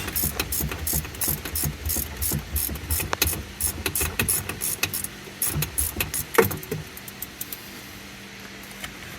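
A hand ratchet clicks repeatedly in quick bursts while a long bolt is backed out on a SeaDoo Switch watercraft, with close, crisp pawl clatter and short pauses between strokes.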